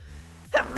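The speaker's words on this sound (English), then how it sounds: "I need to sneeze." A single short sneeze voiced by a character in the video game Blue Archive, with a quick intake and sharp burst, preceded by a low hum.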